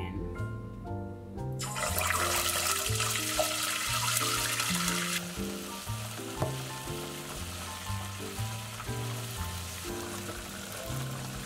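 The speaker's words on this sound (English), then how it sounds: "The chicken is ready, as you can see, and the oil is also ready. So I'm just gonna start frying" Chicken pieces drop into hot oil for a Zambian Christmas lunch, bursting into a loud, dense sizzle that settles into a steady frying hiss beneath background music.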